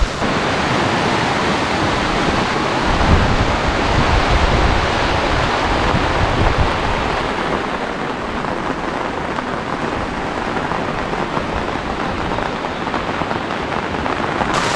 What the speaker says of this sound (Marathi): पाण्याचा आवाज आणि पावसाचा आवाज एकदम छान वाटतो